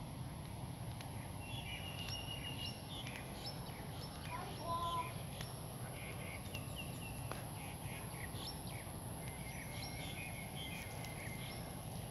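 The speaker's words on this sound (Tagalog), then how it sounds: "Ganda pa yung mga huni ng ibon pag ganitong umaga." Scattered morning bird calls chirp faintly over a constant outdoor hum at a lagoon resort on Bintan, Indonesia, with a high insect-like whine running throughout.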